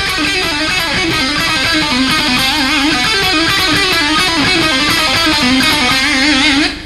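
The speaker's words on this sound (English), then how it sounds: "You can do more pull-offs if you want to, which would sound kind of like this." Rapid electric guitar pull-offs in a fast, continuous flurry of legato notes, loud and close, with a dense distorted tone running steadily for several seconds without any talking.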